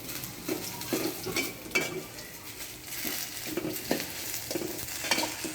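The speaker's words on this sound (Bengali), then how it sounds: "পেঁয়াজ ভেজে নিব।" Onions frying in a pan for a Bangladeshi drumstick-leaf (sajna) bharta, a close sizzle punctuated by repeated scraping stirs and light clinks of a utensil against the pan, no voices.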